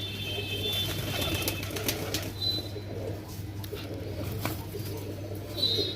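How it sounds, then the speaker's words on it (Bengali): A Kaldam pigeon at a pigeon farm in Nabadwip gives soft, low cooing close by, with faint chirps and a steady low hum in the background. "এই পায়রাটা কালদম পায়রা"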